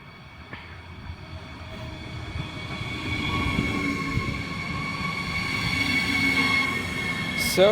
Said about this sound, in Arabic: كما تشوفوا توا الترام هاو جاي